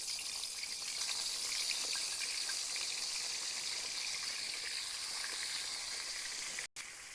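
Steady loud sizzling of pointed gourds frying in hot oil, a continuous hiss close by with a brief gap near the end, no voices.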